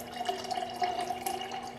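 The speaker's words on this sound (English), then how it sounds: "So I'm getting some filtered water from our refrigerator" Filtered water runs from a refrigerator door dispenser in a steady, fairly quiet stream for about two seconds, with a faint thin splash into the container and no voices.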